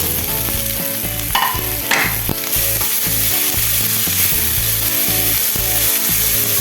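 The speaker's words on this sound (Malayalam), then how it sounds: "സവാള നന്നായി വഴണ്ടി വരേണ്ട ആവശ്യമൊന്നുമില്ല, ഒന്ന് കളറ് മാറിയാൽ മതി." Onions and green chillies fry in a pan after garlic paste, with a steady loud sizzle and repeated scraping, clattering stir strokes throughout, no talking.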